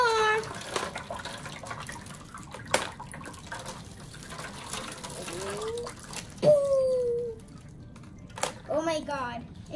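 Water splashes and gushes from a Ziploc bag pierced with pencils into a tray, a running liquid patter under excited voices, with a child's speech and squeals rising over it.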